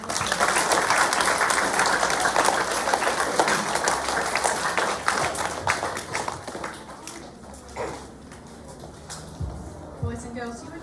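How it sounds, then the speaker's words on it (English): Applause from a school assembly audience, sustained clapping that gradually thins and tapers off, followed by scattered light taps and shuffling. "Please give these boys and girls a round of applause."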